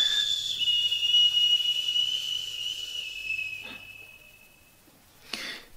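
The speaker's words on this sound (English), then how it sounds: "A whistling from somewhere nearby." A thin, steady high-pitched whistle that holds for several seconds, then fades away, ending with a short soft rustle.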